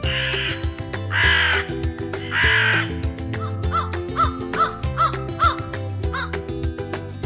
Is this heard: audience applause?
no